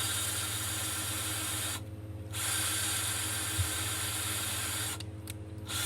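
A power driver runs a screw through aluminium into the wood of a Viking shield, a steady whirring hiss that breaks off briefly twice, with a small click between.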